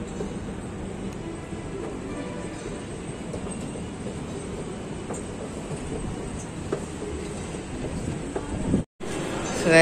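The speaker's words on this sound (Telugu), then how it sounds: "సో ఇప్పుడు ట్రైన్ వచ్చింది అండ్ ట్రైన్ ఎక్కుదాం" A train arriving at a busy station, a steady loud rumble of rolling railcars with faint clatter, broken by a brief dropout near the end.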